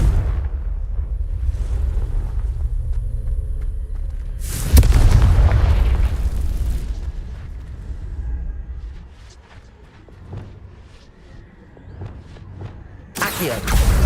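Confringo fire spell explosion in the Hogwarts Legacy video game, a loud booming blast that bursts in suddenly and rumbles away, followed by lighter clatter and a second burst near the end.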